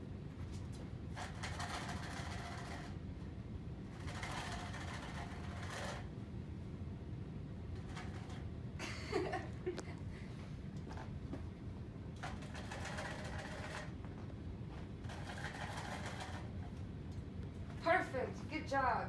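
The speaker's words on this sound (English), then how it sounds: "I'm going to shake the maraca, and you're going to tell me which ear you hear it out of" A homemade maraca is shaken in several distinct rattling bursts of a second or two each, separated by pauses, over a steady low background hum.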